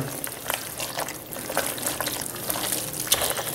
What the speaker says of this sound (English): Put the rest of this rigatoni. Let's just stir that in.